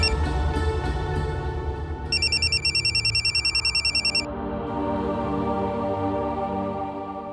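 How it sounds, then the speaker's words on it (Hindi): A telephone bell rings in loud, rapid repeated trills for about two seconds, cutting in over a low background rumble, then stops. "आपका फोन।"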